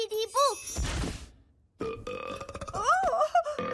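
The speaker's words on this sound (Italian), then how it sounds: "Sembra proprio essere una scatola di rutti, vostra maestà." In the Ben and Holly cartoon, a magic box of burps lets out a loud, gurgling belch, followed by more croaky, drawn-out burp sounds amid cartoon character voices.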